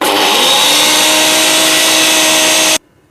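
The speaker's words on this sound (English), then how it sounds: "So now I'm going to grind these roasted rolled oats." An electric grinder whirring loudly as it pulverises roasted rolled oats, a dense steady high-pitched motor roar that stops abruptly near the end.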